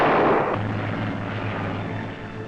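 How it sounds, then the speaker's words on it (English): A scouting plane launched from a warship in the South Pacific during wartime, a loud burst at the start easing into a steady engine drone with low rumble, heard alone without voices. "A scouting plane is shot aloft."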